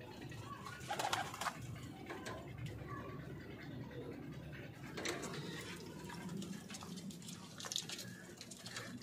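Pigeons coo softly and repeatedly over a steady background hum, with a few sharper rustling or clattering noises mixed in.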